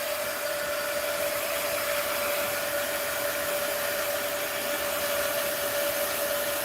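Hair dryer blowing over a mixed-media art journal page. A loud, constant whoosh of air with a steady motor whine runs unbroken from start to finish, close by and with no voices.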